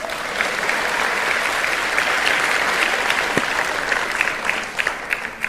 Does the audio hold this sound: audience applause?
yes